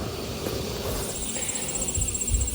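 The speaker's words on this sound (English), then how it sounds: "you can tell as soon as you open a lid on a healthy hive by the smell and the sound that all is well in here" Honeybees hum inside a freshly opened healthy hive, a steady soft drone with faint high buzzing, fairly quiet and unbroken.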